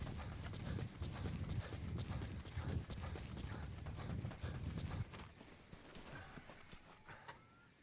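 Horse hooves clip-clopping in a steady rhythmic trot in the video game Metal Gear Solid V: The Phantom Pain, fairly close, with the footfalls thinning out and quieting toward the end.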